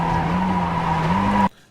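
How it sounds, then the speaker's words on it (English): Mazda MX-5 tires skid under full braking in a racing video game, a loud steady squeal with a sustained tone that shifts pitch near the end and then cuts off abruptly. "So full brake, go down through the shifting,"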